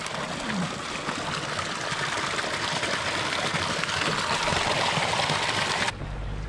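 Water rushes and babbles continuously in a nearby mountain stream in Jibhi, a steady broadband flow that cuts off abruptly at the end.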